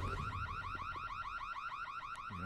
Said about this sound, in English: You don't just go walking through the Illuminati without setting off some alarms.